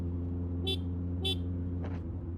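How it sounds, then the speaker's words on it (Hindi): A horn honks in Delhi traffic, likely from a Kawasaki Ninja ZX6R, two short sharp beeps about half a second apart over a steady engine hum, followed by a fainter third toot. "आप हॉर्न दबा दो"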